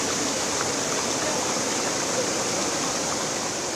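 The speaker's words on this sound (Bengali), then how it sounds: "ভাঙা বাঁধ দিয়ে হুহু করে ঢুকছে পানি" Floodwater pours through a broken embankment in Parshuram and Fulgazi, Feni, as a loud, unbroken rushing roar that holds steady throughout.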